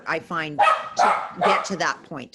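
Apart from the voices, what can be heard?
dogs barking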